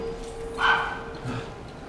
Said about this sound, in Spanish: No, creo que ese es de afuera, ¿no? Es un perro de afuera.